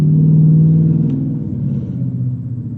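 A car engine rumbles loudly at low pitch, rising slightly and then settling back down in a short steady rev heard close up, alone with no talk.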